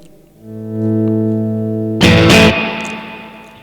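A sustained electric guitar chord fades in smoothly from silence using a volume pedal, swells to full level, then a louder distorted strum bursts in and rings out.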